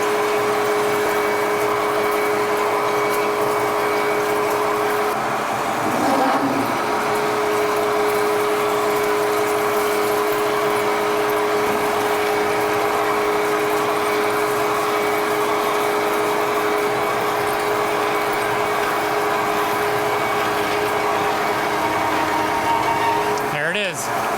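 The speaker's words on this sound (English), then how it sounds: "The machine's working, but not too hard." A lathe runs steadily while drilling a hole through a workpiece, giving a constant whirring machine hum with a faint tonal whine that holds for the whole stretch, close and unbroken.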